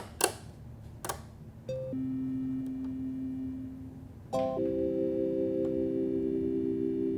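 Sustained Korg Minilogue XD synthesizer tones with harmonic layers and flanger effect, entering in two stages after a couple of short clicks, with a sweeping, slightly swirling quality over a low background hum.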